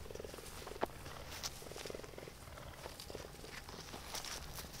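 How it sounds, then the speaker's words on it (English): Soft, low wolf purring pulses in short rhythmic bursts, faint and close, with light rustling and shuffling steps around it, at a wildlife center. "You can even hear one of them purring"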